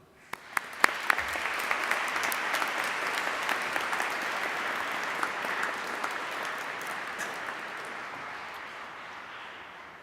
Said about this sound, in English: applaud your family and friends who are with us today